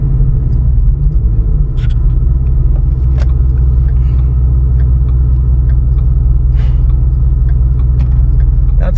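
The V8 engine of a 2010 Ford Mustang GT rumbles loudly and steadily from inside the car as it drives under power, a deep continuous drone with a slight rise near the start.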